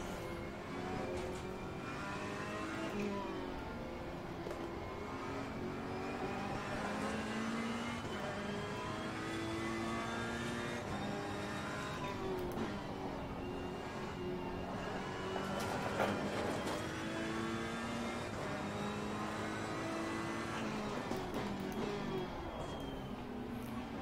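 A Lamborghini race car engine in Assetto Corsa Competizione drones and revs steadily in a multiplayer race, its pitch rising and falling with gear changes, moderately loud, with no voices.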